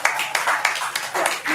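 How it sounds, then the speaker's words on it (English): A short burst of clapping comes from a small audience at a literary festival. The claps are close and irregular, with voices mixed in. "that calls for applause"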